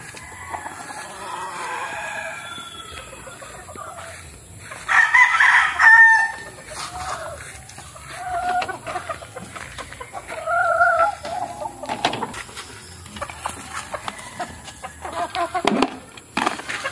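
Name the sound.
hens and rooster clucking and crowing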